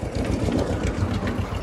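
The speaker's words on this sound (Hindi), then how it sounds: "ट्रैक्टर में बहुत तेज आवाज़ आती है ना" A steady, loud tractor engine chugs close by at a brick kiln with a low, rough rumble that holds constant throughout, like a heavy motor idling.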